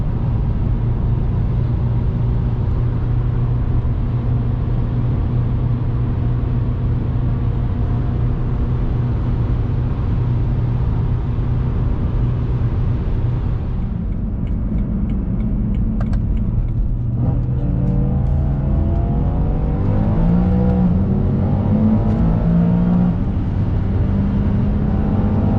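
A car engine hums steadily while cruising on a highway, a loud constant drone with road rumble throughout; the tone shifts slightly as the engine note rises near the end.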